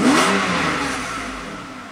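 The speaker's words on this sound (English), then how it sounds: "this is our normal acceleration. Just tap on the gas pedal and it goes up" A Mercedes engine revs up loudly under normal acceleration just after recovering from limp mode, a strong sustained rising roar heard close by that slowly eases off, with no talking.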